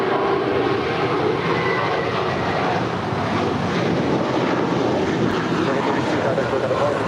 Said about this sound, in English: That is American 32 departing to JFK. It's an A321.